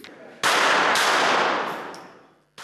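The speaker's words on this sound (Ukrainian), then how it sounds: "Стріляли з бойової зброї" Gunfire from combat weapons during a shooting competition, sharp cracks followed by a sustained rattling burst that fades out, then another sudden shot right at the end.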